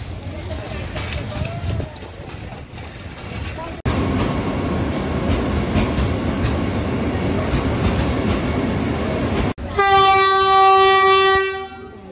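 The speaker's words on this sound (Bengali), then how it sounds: "হাওড়া স্টেশন আমরা দেখতে পাচ্ছি" Busy ambience at Howrah railway station in Kolkata: a loud rumbling train, steady crowd murmur and clatter, and a sharp blaring train horn near the end, with voices talking throughout.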